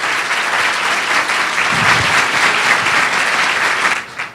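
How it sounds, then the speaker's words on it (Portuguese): An audience at a professional certification award panel claps steadily in a loud, dense burst of applause that holds for several seconds before tapering off at the end. "Terezinha Saraiva, receba mais uma vez nossos aplausos como forma de um abraço afetuoso"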